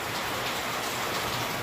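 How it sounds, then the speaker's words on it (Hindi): Steady rain falling during a widespread downpour in a village, an even, dense hiss that continues alone without pause. "ये वाली बारिश जो है ना ये सब जगह हो रही है"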